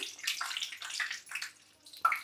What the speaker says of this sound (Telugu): ఇప్పుడే కడిగేసి వాష్ చేస్తాను